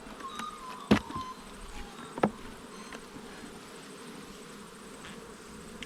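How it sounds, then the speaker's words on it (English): Honey bees hum and buzz around an open beehive's top box as a beekeeper inspects it, a steady soft drone with two short louder knocks or clicks from handling the hive. "A few bees up there."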